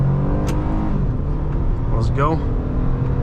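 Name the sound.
2007 Honda Accord Coupe V6 accelerating from a full stop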